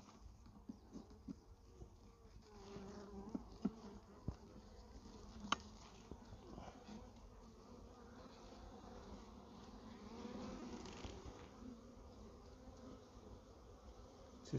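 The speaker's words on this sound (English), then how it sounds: "A lot more bees in this one." A low, steady buzz of many honeybees in a mating nuc hive hums throughout, quiet and close, with occasional faint taps and rustles.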